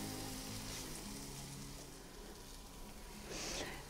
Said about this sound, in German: das Mehl, das wird jetzt auch ein bisschen mit angebraten